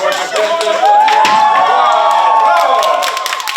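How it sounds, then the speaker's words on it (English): Audience clapping and cheering fill a hall right after a strongman sets a new Ukrainian record, a loud, dense, steady ovation with crowd voices rising through it. "to thunderous applause from the audience sets a new record"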